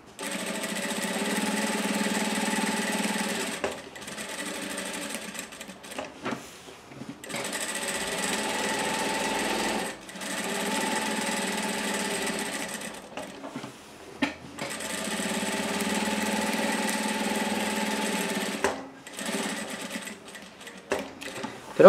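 A sewing machine stitches a safety seam around a fabric kitchen paper towel holder in repeated bursts of steady whirring, each lasting several seconds and separated by short pauses, heard close and alone.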